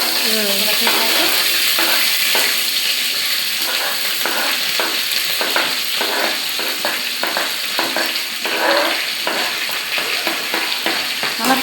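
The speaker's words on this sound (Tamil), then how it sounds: "தாளிப்பு போட்டோன்னே பச்சை மிளகாயும் வெங்காயத்தையும் நம்ம போட்டோம்" Green chillies and onions crackle in a hot tempering of oil, a loud steady sizzle with regular scraping stirs and faint clinks of the pan throughout.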